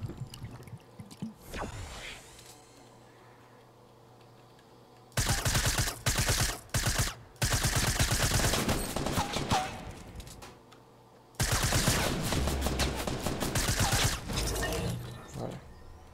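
Bursts of rapid automatic gunfire from the video game Fortnite come in loud clustered volleys, with a quiet stretch and a faint shot before the first burst, and no talking.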